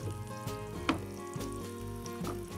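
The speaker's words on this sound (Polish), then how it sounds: "Potrząsam patelnią, żeby mięso karpia stykało się równo z powierzchnią oliwy." Carp fries in olive oil in a pan that is shaken, giving a steady low sizzle with a few soft knocks and sliding bumps, close and fairly quiet, with no talking.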